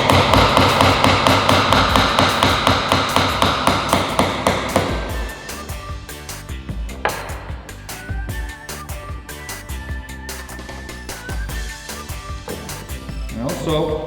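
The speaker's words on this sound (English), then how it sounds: "when you're nailing stuff, as you can see, the nail is longer than the actual piece" Hammer driving a nail into a piece of wood, a steady run of sharp rhythmic knocks, loud and close at first and then lighter, with a person talking over the strikes.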